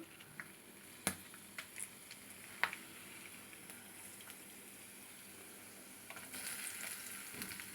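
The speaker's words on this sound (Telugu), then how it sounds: "నూనె పోసుకున్నాను నూనెలో తాలింపు దినుసులు వేసుకుంటున్నాను" Oil sizzles softly in a pan with occasional sharp pops and crackles as tempering spices and dried red chillies fry, quiet and close.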